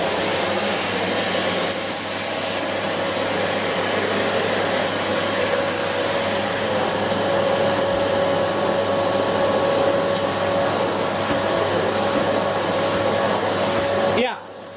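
A Philips FC8575 vacuum cleaner, rated 650 to 900 watts, runs steadily across a carpet with a loud, continuous motor whine and airflow roar that stops abruptly near the end.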